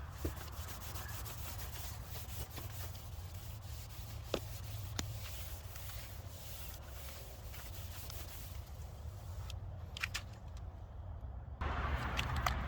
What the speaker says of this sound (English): squirt a bit of brake clean on a rag. Give the whole area a quick wipe